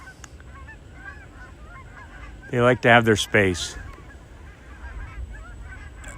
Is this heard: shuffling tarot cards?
no